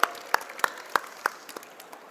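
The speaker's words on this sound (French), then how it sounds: "Oh, on peut applaudir s'il vous plaît." A small audience at the Montreal chocolate fair, watching a pastry demonstration, gives a few sparse, separate hand claps. The claps are fairly close and spaced at roughly regular intervals, then trail off quickly.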